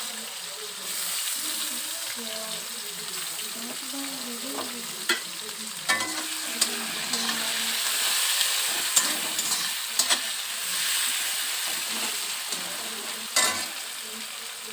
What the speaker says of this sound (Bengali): শুকনো লঙ্কা তেজপাতা কেটে রাখা পেঁয়াজ দিয়ে দিচ্ছি